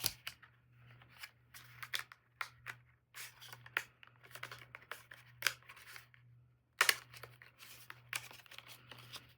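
Paper with scrap embellishments cranked through a hand-cranked die-cutting machine, making close, intermittent crinkly rustles and clicks in uneven bursts, with a steady low hum underneath.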